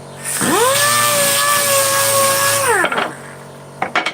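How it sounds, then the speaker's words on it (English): A DA air sander runs off a workshop air compressor, giving a loud steady high whine for about two and a half seconds before it spins down, with a few clatters afterward. "You can probably hear now that the compressor is actually running, because I'm using a lot of it."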